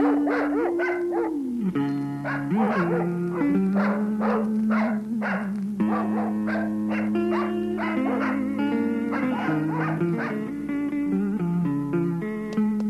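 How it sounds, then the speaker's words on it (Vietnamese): Dogs bark loudly and repeatedly at a home, sharp yaps and howling whines coming in a quick, uneven series with tonal, whimpering tones mixed in. "Con ra trước coi có ai mà chó sủa rân vậy con."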